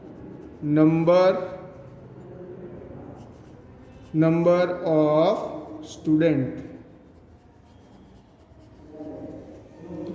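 Pen or pencil writing on paper while marking a graph, light scratching strokes largely beneath a person speaking in bursts.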